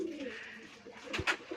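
Pigeons, including a white pair with a baby, give soft low cooing calls close by, a throaty rolling coo followed by a short flutter-like burst.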